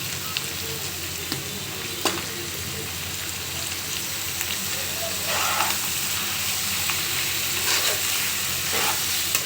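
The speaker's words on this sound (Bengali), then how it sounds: "সুন্দর করে নেড়ে চেড়ে নিলেই আমার পাস্তাটা রেডি হয়ে যাবে।" Boiled pasta stir-fried in a pan with fried potato, onion and egg gives a steady, close sizzle, broken by occasional scraping stirs and louder bursts of spitting.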